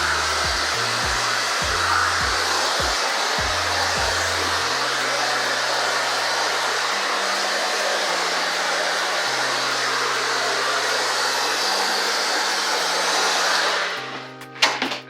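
A hair dryer runs steadily and loudly while drying curly hair, its airflow shifting in pitch as the speed settings change, then cutting off near the end; no one speaks.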